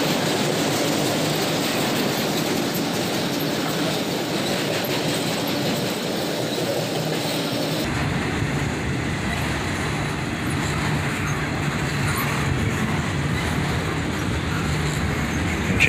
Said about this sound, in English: Brings up the rear of the train.